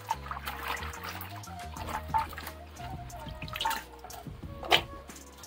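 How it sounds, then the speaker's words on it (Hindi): Taro and hilsa fish are rinsed by hand, with soft trickling, dripping and splashing water close by, irregular and fairly quiet. "चलिए धो लेता है अच्छा तरह से।"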